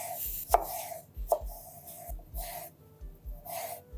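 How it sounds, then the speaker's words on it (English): A knife slices pickle strips on a cutting board with light pressure, several soft, evenly spaced chops with a sharper crisp cut or two, close and clear with no talking. "I'm using really light pressure to cut these strips"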